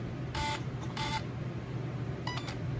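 Crisp electronic beeps from a Losi Monster Jam Son Uva Digger 1/8-scale RC truck pairing with its remote: two quick tones close together, a pause, then a final chirp, all fairly quiet against room hiss.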